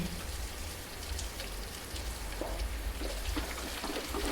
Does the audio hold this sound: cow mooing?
no